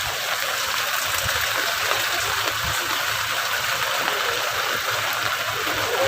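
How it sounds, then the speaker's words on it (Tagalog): Heavy rain pours steadily and loudly as a person bathes outdoors in it, a dense, unbroken wash of falling water with a faint voice buried underneath. "Ngayon, lakas ng ulan, naliligo ako."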